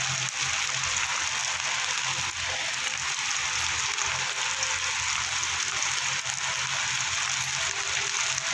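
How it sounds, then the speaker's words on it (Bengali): Water poured into turmeric, Kashmiri chili powder, roasted cumin and salt frying in a pan for a bhola fish curry sets off a loud, steady, close sizzling hiss that continues throughout, with no speech. "সামান্য একটু জল দিয়ে যাতে মশলা না ফুলে যায়"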